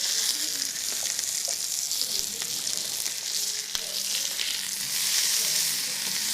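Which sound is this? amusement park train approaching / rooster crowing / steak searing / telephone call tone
steak searing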